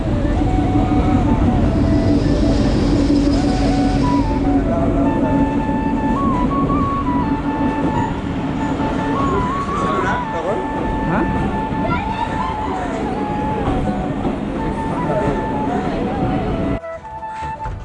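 A train on the Nilphamari to Saidpur line rolls into a station in a long, steady rumble with horn-like tones drifting over it, and people talk throughout before the noise cuts off near the end.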